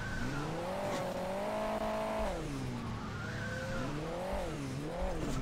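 A car engine from the mobile game Hill Climb Racing 2 revs continuously, its pitch climbing and falling repeatedly as the vehicle accelerates and eases off, with faint tire-squeal-like noise mixed in.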